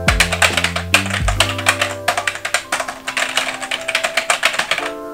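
Typing on a Chiropter MK4 gaming keyboard, close-up: loud, rapid clattering keystrokes in irregular bursts, each click sharp and distinct, with a tonal hum underneath.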